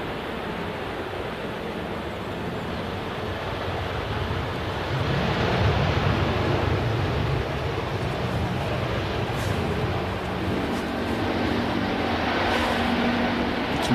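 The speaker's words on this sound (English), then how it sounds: "You can hear the Emirates over us." An Emirates airliner climbs overhead after takeoff near Manchester Airport, heard as a broad, steady roar that swells slightly midway and is mixed with wind noise.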